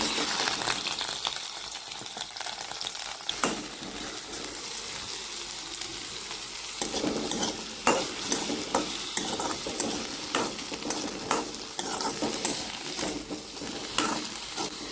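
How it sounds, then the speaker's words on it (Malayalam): Okra sautés in coconut oil in a pan, giving a steady close sizzle and frying crackle with occasional stirring scrapes throughout. "ഇതിൽ കുറച്ച് വെളിച്ചെണ്ണ ഒഴിച്ചിട്ട് നമുക്ക് വെണ്ടയ്ക്കൊക്കെ നന്നായിട്ട് വഴറ്റിയെടുക്കാം."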